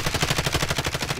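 Rapid automatic gunfire in the video game Call of Duty: Warzone, a rhythmic burst of about fifteen evenly spaced shots over a little more than a second, loud and close, with no voices over it.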